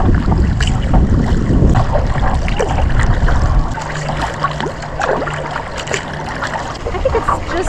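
Strong, blustery wind roars into the microphone while a kayak is paddled solo across Lake Nemahbin on a cold, misty fall day, with water sloshing and paddle splashes beneath the constant buffeting.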